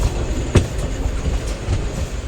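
The Nagarsol Express rolls along the rails, a loud, close, continuous rumble with a sharp clack of the wheels over a joint partway through and fainter clatter after.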